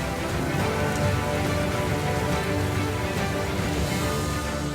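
Simulated rainstorm pouring onto a desert terrarium tank, a dense, steady hiss of falling water close by and loud throughout, with no voices.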